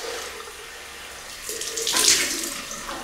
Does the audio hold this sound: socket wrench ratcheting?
no